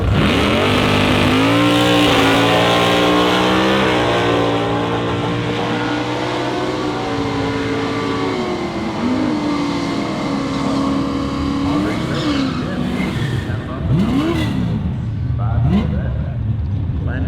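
Heads-up drag racing cars accelerate hard at Toronto Motorsports Park, a loud continuous engine roar with rising and falling revs, while an announcer talks over it throughout.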